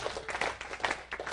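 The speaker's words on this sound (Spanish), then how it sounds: "Venga, va, aplaudir." A conference audience claps briefly on command, a quick, faint patter of scattered hands at a distance that rises and falls within about a second.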